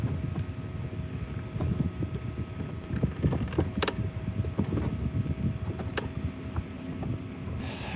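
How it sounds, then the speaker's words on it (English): Wind gusting across open water on Lake Lanier, buffeting the microphone in an uneven, rumbling roar, with faint boat and mechanical knocks beneath it and no talking. "if this wind calms down just a little bit, that's all I need"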